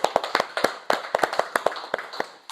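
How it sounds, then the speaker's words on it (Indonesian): A roomful of worshippers claps during a Christian service at the Ministry of Industry. The sharp, scattered hand claps come close and loud in a fast, uneven rhythm, with no voices over them. "tepuk tangan dulu."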